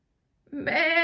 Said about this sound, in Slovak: Vnútri sa potulovali ovce, obzerali si tovar a bľačali.